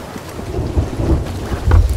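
Stormy weather in a pirate galleon video game: a steady wash of rain with low rumbling thunder swelling twice, loudest near the end, no voices.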